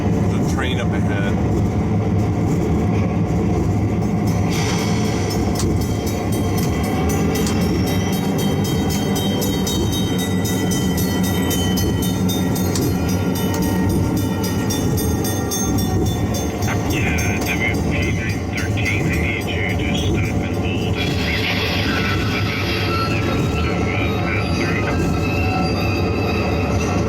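A DCC model train runs steadily along the track with squealing wheels and a constant mechanical drone, loud and close throughout.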